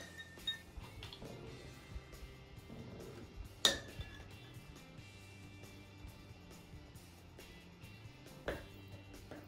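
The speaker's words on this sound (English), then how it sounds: "Now we will put sugar and ice cubes." Sugar and ice cubes dropped into glasses for a melting experiment, giving scattered light clinks and clatters of glassware, with one sharper clink partway through and another near the end, fairly close over a faint background.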